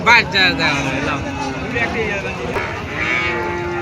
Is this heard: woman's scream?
no